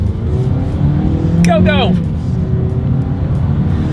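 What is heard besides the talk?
2020 Toyota Yaris accelerating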